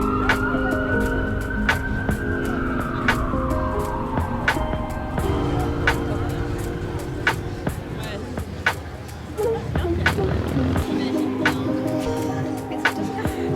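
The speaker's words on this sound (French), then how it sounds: "Les sirènes de police, ouais." Police sirens wail through busy Toronto street traffic, a long rising and falling tone drifting at mid distance over steady city hubbub, passing cars and chatter from a nearby crowd.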